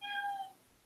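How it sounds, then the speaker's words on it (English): One short, clear meow from a house cat in the background indoors, fading into quiet room tone, with no talking over it. "as you can probably hear my cat meowing in the background"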